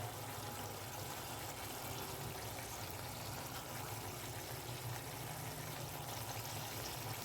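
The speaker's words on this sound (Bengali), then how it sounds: "এবার এই পাত্রটা ধুয়ে একটুখানি জল আমি এর মধ্যে অ্যাড করে দেবো" Water from a rinsed container, carrying leftover yogurt masala, pours into a pan of katla fish curry as a faint, even trickling rush that runs steadily without talk.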